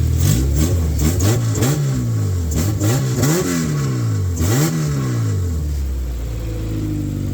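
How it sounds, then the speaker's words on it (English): A K-swapped Honda Civic engine revs up and down in a series of quick, loud blips from idle, the pitch climbing and falling several times before settling back to a steady idle, close by with no talk. "let's give it a quick little rev"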